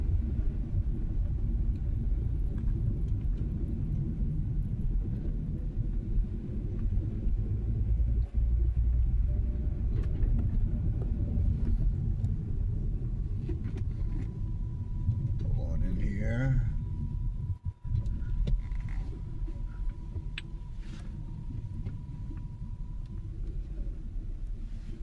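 A car with a manual transmission drives along a road on a winter day in Bangor, Maine, a low steady engine and tyre rumble filling the cabin, with a voice talking over it partway through.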